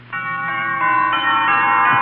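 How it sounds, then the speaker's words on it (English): Wedding bells from a 1937 radio drama sound effect ring out loud and sustained, a steady chime of overlapping tones that swells slightly over two seconds with no voices. "Wedding bells."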